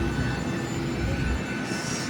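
Steady aircraft engine drone heard while boarding a plane, a continuous low rumble with a faint whine above it, loud and close throughout, with no talking.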